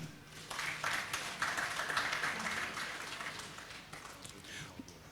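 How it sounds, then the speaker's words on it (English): A crowd breaks into steady applause, a dense wash of clapping that holds for a few seconds before thinning out toward the end. "we are calling on a clap for him"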